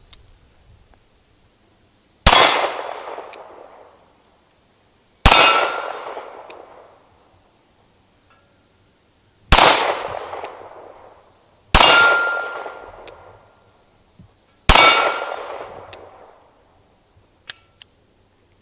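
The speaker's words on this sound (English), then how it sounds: "let's see how it does from right here shooting at these targets" Five sharp shots from a Smith & Wesson 637 .38 Special snub-nose revolver ring out at irregular intervals, each a loud crack with a ringing decay as steel targets are struck, followed by a faint final clank.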